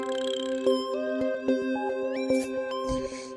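Layered synth plucks ring out in a bright melodic pattern, notes echoing and trailing through delay, with a soft noisy swell near the end.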